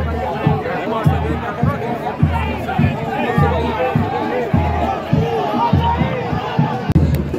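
Impatient football crowd in a stadium during a long VAR delay at a Série D knockout match, a steady murmur of chatter and babble with rhythmic thumps and occasional shouts rising from the stands.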